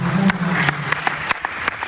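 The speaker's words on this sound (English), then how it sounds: "A round of applause for ours." Audience applause after a speaker at a presentation on investing in the future, moderately loud steady clapping from a room of people that thins into scattered claps, with a voice heard faintly at the start.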